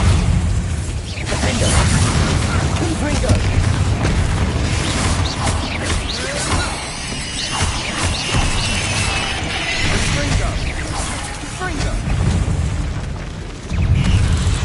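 Spell explosions from the Bombarda spell in the Hogwarts Legacy video game, loud booming bursts with rumbling low end and crackling debris layered over dense combat noise, with a brief dip near the end.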